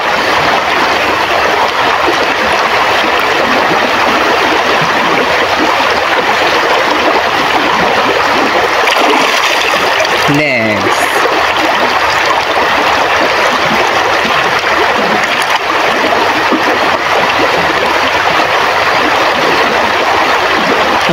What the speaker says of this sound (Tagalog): Ang ganda na guys ng ilog